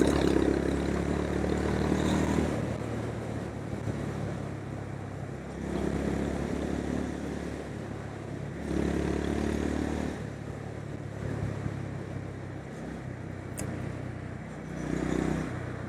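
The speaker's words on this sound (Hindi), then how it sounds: "अब तीसरे गियर पे भी मैं एक्सेलेटर पूरा दे रहा हूँ" A 2026 Honda CB350 RS motorcycle engine drones steadily while riding at full throttle in third gear, swelling in repeated surges as it pulls, with a constant rushing background and no voices.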